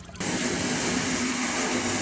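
Water pump starting up at a domestic tank setup: after a brief quiet moment the motor kicks in abruptly and settles into a steady, loud whirring hum with a constant tonal drone.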